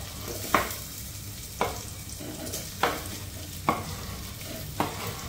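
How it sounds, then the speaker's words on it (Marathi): Chopped potatoes go into a pan of fried masala and are stirred, with a steady sizzle broken by about five sharp scraping stir strokes at regular intervals, close and moderately loud with no talk. "सो आता हांव हितून घालता बटाट जे आम्ही कापून दवरलेले ते बारीक बारीक"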